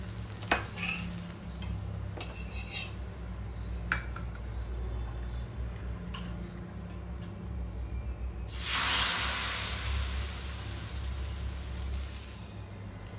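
A crispy upwas fasting dosa, made without rice or fermentation, is lifted off a hot pan with a few light spatula clicks and scrapes, then fresh batter hits the pan with a sudden loud, sustained sizzling hiss close by.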